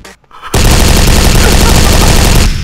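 Loud, dense automatic turret fire in the blocky shooter game Brick Force erupts after a short pause and rattles continuously for about two seconds, close and overwhelming.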